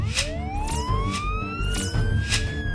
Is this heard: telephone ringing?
no